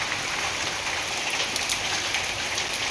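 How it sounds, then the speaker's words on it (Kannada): Heavy morning rain pours steadily onto surfaces, a dense, even hiss with scattered droplet splashes, loud and continuous without any letup. "ಇವಾಗ ಬೆಳಿಗ್ಗೆ ಅಂತೂ ಸಿಕ್ಕಾಪಟ್ಟೆ ಮಳೆ ಬಂತು"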